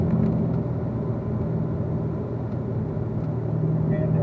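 Corvette Z06 running on a race track in fourth gear, a steady loud engine rumble with road and wind noise filling the whole stretch, continuous and even with no clear shifts.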